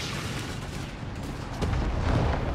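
A 6-pounder anti-tank gun fires in the Company of Heroes 3 video game. Low booming reports sound under continuous battle noise and grow heavier in the second half.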